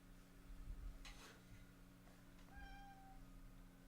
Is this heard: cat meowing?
yes